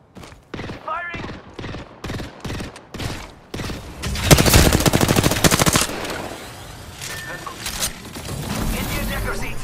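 Video game gunfire from Apex Legends: several sharp separate shots, then a loud rapid automatic burst, fading into continued shooting and game noise, with a voice talking over parts of it.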